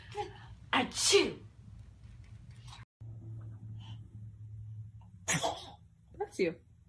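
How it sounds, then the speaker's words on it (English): A baby sneezes several times in quick bursts, close and fairly loud, with an adult voice speaking between the sneezes over a steady low household hum. "Sneeze, baby."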